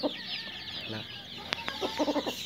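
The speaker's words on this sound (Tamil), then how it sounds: "அசில் சேவல் இது அசில் சேவல்" An Asil rooster on an Indian native-chicken farm clucks while ranging in the open, with a few short, close clucks rising near the end over steady background bird chatter.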